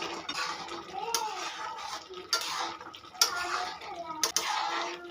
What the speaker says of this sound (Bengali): মশলাটার সঙ্গে ঘুগনিটা খুব ভালো মতো মিশিয়ে নেবো